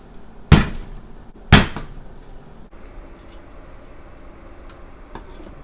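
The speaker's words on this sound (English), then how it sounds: "Give the garlic a rough chop." A knife chops garlic roughly on a board, two loud close thuds early on followed by a few faint knocks, with no talking.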